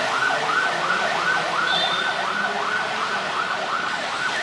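Continuous wailing siren of an ambulance moving along a road in Thailand as traffic yields, fast regular up-and-down sweeps, loud and close, with no voices.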